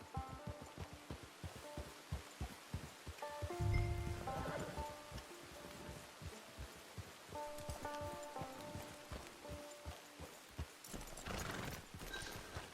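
Steady hoofbeats clip-clop along in a regular rhythm in the video game Red Dead Online, joined by a short horse whinny and a soft patter like light rain.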